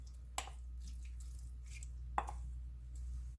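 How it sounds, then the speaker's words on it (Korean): Blanched clam meat and mussels drop into a soup pot already holding radish and beef, giving two soft, wet plops with faint dripping in a quiet kitchen. "조개살하고 홍합 살짝 데친 거 다 넣어줄게요."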